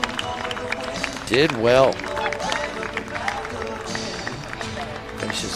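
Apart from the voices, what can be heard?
crowd applause for pitcher at baseball game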